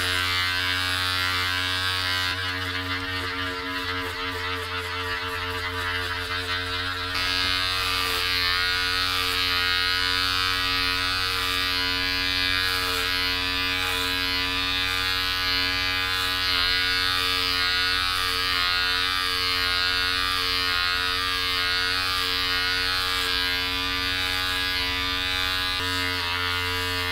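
Electric hair clippers buzzing continuously and loudly up close during a home haircut, a steady motorized drone with small shifts in pitch as they move through hair.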